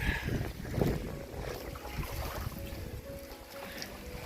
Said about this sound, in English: Well, it's gotten pretty choppy out there. The wind's picked up.